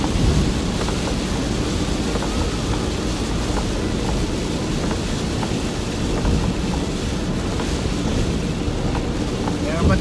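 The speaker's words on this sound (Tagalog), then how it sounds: "Malakas na ulan, malakas." Heavy rain pours steadily and loudly in Matsusaka, Japan, a dense continuous roar with gusty wind buffeting the microphone and occasional voices underneath.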